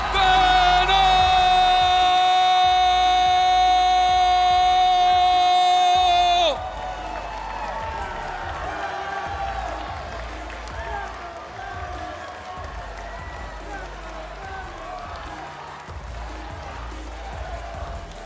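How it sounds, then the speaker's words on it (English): Crowd at the Pokémon UNITE World Championships roaring and cheering as a team is crowned champion, following a sustained loud horn-like fanfare; dense, continuous crowd noise fills the arena. "Crowd chants their name."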